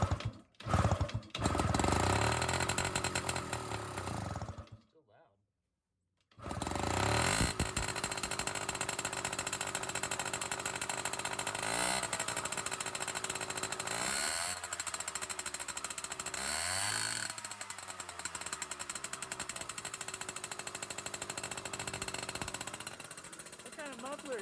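Small 1980s moped engine on a cold start with a possible straight-pipe muffler: a loud, harsh, rattling two-stroke roar right up close, cutting out briefly after a few seconds and then running steadily and raspy, with people talking over it.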